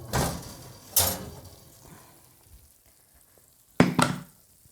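Enchiladas sizzle in a hot pan, a steady low frying hiss broken by three sharp bursts of louder crackle and clatter near the microphone.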